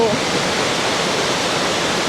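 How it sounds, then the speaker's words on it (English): Pulangbato Falls, a jungle waterfall above Dumaguete in the Philippines, roars steadily as a dense, broadband rush of falling water, close and loud without pause. "This is the real Pulangbato Falls."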